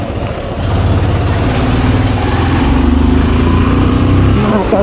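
A motorbike engine runs steadily and close by on a rough, potholed road through the Bardibas market area in Nepal, its low hum continuous throughout with faint road noise.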